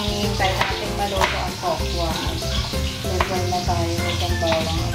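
Chopped onion and garlic sizzle in hot oil in a pan, a steady frying crackle running throughout, with occasional stirring and utensil clinks beneath background music.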